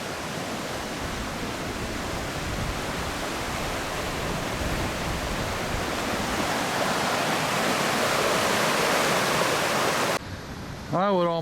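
Creek water at the Bayhorse ghost town in Yankee Fork State Park, Idaho, rushing in a steady, broadband wash close by. The flow ends abruptly near the finish, where a short burst of other noise cuts in.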